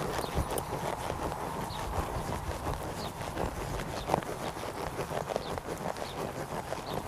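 A horse trots on dirt during a barrel racing approach toward the first barrel, its steady clip-clop hoofbeats repeating at an even rhythm, fairly close, with no talking.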